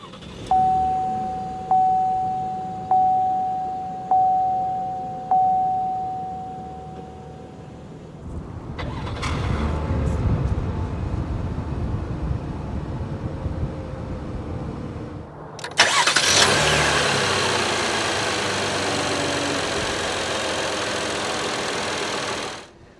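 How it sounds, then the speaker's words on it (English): Chimes repeat as a 2017 Buick LaCrosse is started with its push-button ignition. The engine cranks and catches into a steady idle, then a louder broadband rush follows. "the LaCrosse comes standard with a push-button ignition"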